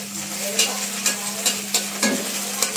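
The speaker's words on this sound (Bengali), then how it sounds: "প্রথমে ডিম ভাইজা নিতেছেন।" Eggs fry in a pan with a steady sizzle, broken by regular scraping strokes of stirring roughly every half second.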